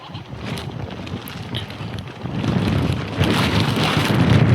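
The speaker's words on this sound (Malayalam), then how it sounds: "നല്ല കാറ്റടിക്കാൻ കേട്ടോ. കാറ്റും പ്ലസ് ചാറ്റൽ മഴയും കൂടി ഉണ്ടാകുമ്പോൾ വേറൊരു രസമാണ്." Monsoon wind gusting with drizzling rain at a tea plantation, a broad rushing noise with microphone buffeting that grows louder and steadier toward the end, no talk.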